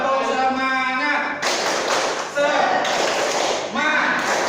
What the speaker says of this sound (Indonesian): Kita melaksanakan ice breaking tepuk semangat. Tepuk semangat, nanti bertepuk ya.